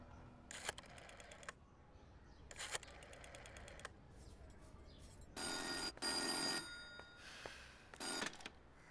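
A telephone rings in repeated bursts, three or four separate rings with quiet gaps between them, fairly close and clear over a low background hum.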